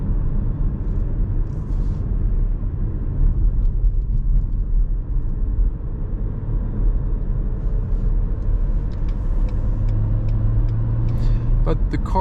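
Steady low engine and road rumble inside a moving 2022 Renault Arkana E-Tech 143 HP hybrid, a continuous drone that swells slightly as it picks up speed, with occasional faint clicks.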